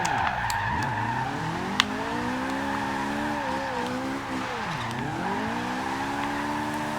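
A BMW M3 E30 engine in Forza Horizon 2 revs and shifts steadily, rising and falling in pitch with tire skids, loud and continuous with no talking.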